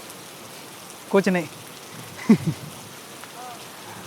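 Steady rain falling at Amboli in the monsoon hills, an even hiss throughout, with a couple of brief voices speaking over it.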